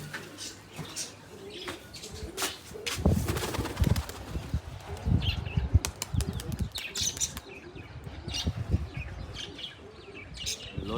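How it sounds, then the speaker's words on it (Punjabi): A flock of pigeons takes off and circles, with loud repeated wing flapping in bursts close by and scattered chirps and coos mixed in outdoors. "ਬਾਬੇ ਕਬੂਤਰ ਉੱਡੀ ਜਾਂਦੇ ਆ"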